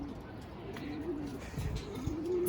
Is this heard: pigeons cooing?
yes